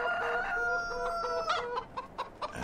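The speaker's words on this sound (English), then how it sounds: "we should hear the rooster crow." A rooster crows in the farming video game Farming Simulator 17. One clear, drawn-out cock-a-doodle-doo comes close up, followed by a few short clucks.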